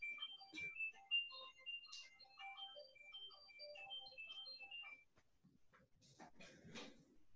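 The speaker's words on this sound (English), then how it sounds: "there's a phone ringing" A phone plays a melodic ringtone during an expert talk on PR measurement, a run of bright electronic tones that is quiet and fairly close, followed by faint rustling as it is silenced.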